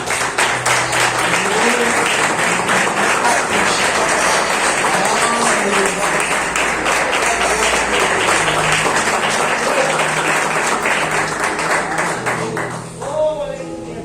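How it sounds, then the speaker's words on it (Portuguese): A church congregation bursts into loud, sustained applause that fills the room for over twelve seconds, dense clapping with voices calling out beneath it before it tapers off at the end. "Desocupa as mãos, dá uma salva de palmas para a palavra."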